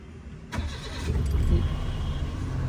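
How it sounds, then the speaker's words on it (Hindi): A Suzuki Mehran 660cc automatic with a cold engine cranks with a sharp catch, then settles into a steady, close, rumbling idle. "गाड़ी भी स्टार्ट करके दिखाता हूँ।"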